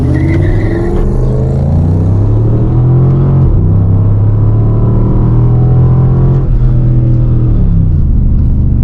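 A Dodge Charger R/T in forced rear-wheel drive accelerates hard from a standstill, its engine roaring loud and close as it climbs through several gear shifts with brief dips between them.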